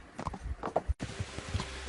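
Horse hooves on a night ride toward Sasso in Kingdom Come: Deliverance: irregular muffled thuds of a walking horse, close and moderately loud, with a brief drop to silence midway before the steps resume.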